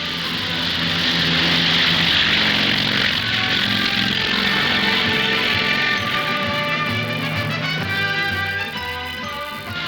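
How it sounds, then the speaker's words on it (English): Twin-engined Grumman Tracker anti-submarine aircraft of 816 Squadron drone loudly and continuously with a rough, buzzing piston-propeller roar that shifts slightly in pitch, with no voices. "816 Squadron's Grumman trackers, twin-engined, all-weather anti-submarine aircraft"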